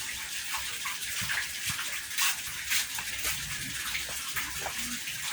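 Rain driven by wind sweeps steadily across an outdoor spot, a dense hiss with a few louder gusts, while people talk faintly now and then.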